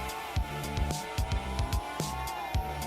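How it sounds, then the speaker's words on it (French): Engine note of a Bugatti car in a Roblox driving game, a steady droning tone with repeated short revving swells and gear shifts, moderately loud and continuous, with faint tire squeal. "Alors ça, c'est le bruit qu'ont majoritairement les Bugatti."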